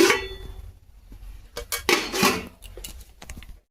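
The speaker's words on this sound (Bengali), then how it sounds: "গ্যাসটা মুছে নিয়ে ভাতটা বসিয়ে দিলাম" A metal pot of rice set down on a gas stove, with clanks and scraping rattles of cookware, close by and moderately loud, coming in short bursts over a steady low hiss; no talking.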